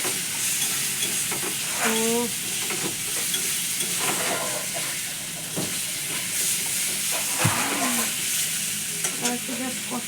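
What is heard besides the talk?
egg frying and being stirred in a pan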